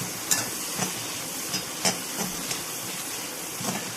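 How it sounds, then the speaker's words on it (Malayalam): Okra frying in a pan for a vendakka fry, with a soft steady sizzle and hiss and a few sharp scrapes and clicks of stirring spaced through it, fairly quiet and without talk. "ഒന്ന് നന്നായിട്ട് വഴറ്റി കൊടുക്കുക"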